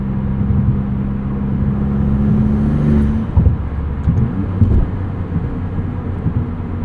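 A 2022 Maserati MC20 sports car drives along with a fairly quiet, steady engine drone and road rumble heard from inside, shifting slightly in pitch midway.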